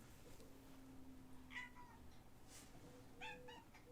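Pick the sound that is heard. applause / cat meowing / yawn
cat meowing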